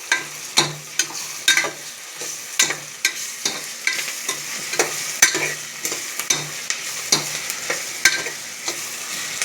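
Ginger garlic paste frying in a pan for chicken biryani, a soft sizzle under a steady run of sharp spatula scrapes and taps, roughly two strokes a second, with no voices.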